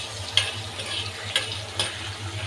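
Spices dry-roast in a pan for a cow tripe curry, a soft steady crackle broken by three sharp ticks of a spoon or spatula against the pan, with a low hum beneath.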